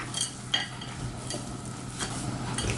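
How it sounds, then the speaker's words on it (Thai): Chocolate being stirred into a thick oat and wholewheat scone cookie dough, soft scraping and sticky stirring strokes in a quiet kitchen, faint and close with a few brief brighter scrapes. "ใส่ช็อกโกแลตที่เราเตรียมเอาไว้ลงไปค่ะ จากนั้นนะคะผสมให้เข้ากันค่ะ"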